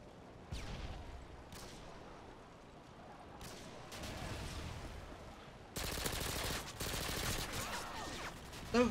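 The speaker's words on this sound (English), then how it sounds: "The recoil on this freaking SMG is absolutely insane." SMG fire in the Modern Warfare 2 video game sounds as several short bursts that give way to a loud, sustained stream of automatic shots near the end, sharp and close.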